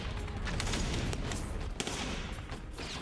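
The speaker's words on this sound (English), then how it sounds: "machine gun fires from a 250-round belt fed from the side" A belt-fed machine gun, fed from a 250-round belt at the side, fires sustained rapid bursts that form a dense, rolling roar of gunfire with a few sharper cracks, heard continuously without any voices.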